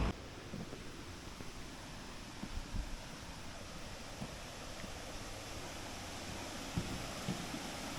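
A waterfall roars as a steady, even wash of broadband rushing water, with no voices over it for the whole stretch.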